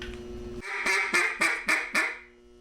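Someone blows a duck call to imitate a duck. A buzzy opening note is followed by a rhythmic series of five loud, close, evenly spaced quacks, then a quick fade.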